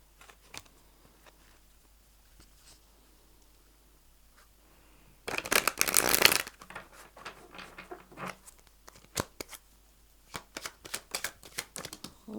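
Tarot cards shuffled by hand in a dense, crisp riffling burst lasting about a second, followed by scattered soft card slaps and taps, close and otherwise quiet.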